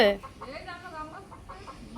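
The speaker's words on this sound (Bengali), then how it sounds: "কাকি মুরগি কি গাছে রাখা ধরছে" Chickens perched up in a tree at dusk give a run of short, repeated clucks at moderate distance, with faint human voices in the background.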